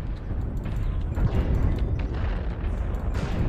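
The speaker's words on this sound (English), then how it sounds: "I'm dropping artillery strike on Juliet." Artillery strike explosions from MechWarrior Online, a dense run of deep booms rumbling together for the whole stretch, loud and steady with heavier bursts near the middle.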